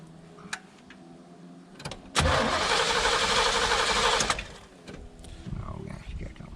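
An abandoned Chevy Vega with a 350 V8 and four-speed cranks and catches, giving a loud, rough roar for about two seconds before dropping back, with voices talking around it.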